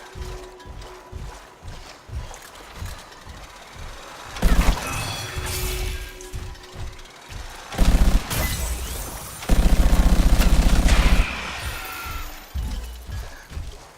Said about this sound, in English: I'm going to show you my autocannon, one of the Colossus specific ones. It has a wind up, and then it kills.